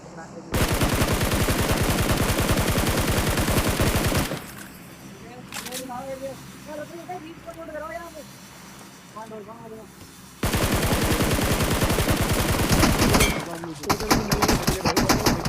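Gunfire in the mobile battle royale game BGMI comes in long dense bursts of rapid automatic shots, broken by a quieter stretch where someone talks, then the heavy firing resumes loudly.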